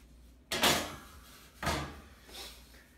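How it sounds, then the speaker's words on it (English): A metal tray inside a GE gas oven, model JGS963SEK2SS, is pulled out, making two distinct scraping slides with metallic rattle, close and fairly loud, followed by faint handling noise. "this tray slides out"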